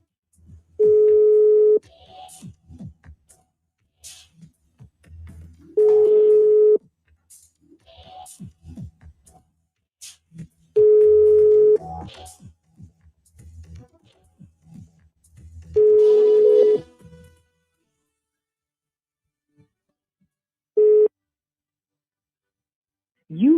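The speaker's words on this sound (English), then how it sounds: "Let me hear the phone ring in there." Telephone call placed over a broadcast line: repeated steady ringback tones in evenly spaced bursts, four long rings followed by a shorter one, with faint background noise between them and no talking.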